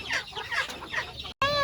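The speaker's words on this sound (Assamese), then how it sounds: "এইটো চাওক ৰাইচ মুৰ্গী, কিমান মুৰ্গী আছে ইয়াত।" Chickens cluck in a yard at a house with many birds, giving short, close, clucking calls with a brief break near the end.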